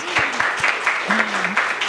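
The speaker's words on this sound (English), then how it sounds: "A big round of applause, please." Applause for Ajay Jain at the VLF 2023 literary festival, a steady patter of clapping from a hall audience lasting a couple of seconds, with a brief vocal tone rising over it.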